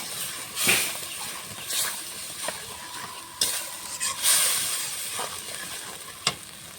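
Tilapia pieces sautéed with mustard-poppy paste, salt and turmeric powder in a pan, a constant frying sizzle broken by scraping stirs and light clacks of a spatula, close and fairly loud, without speech.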